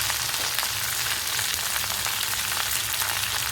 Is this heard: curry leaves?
yes